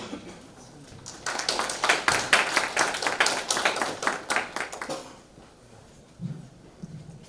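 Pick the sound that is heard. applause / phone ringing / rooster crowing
applause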